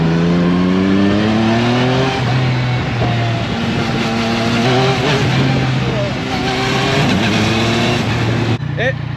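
A Yamaha Niken three-wheeled motorcycle engine revs up hard, its pitch climbing in repeated surges, loud and close, with brief talking mixed in.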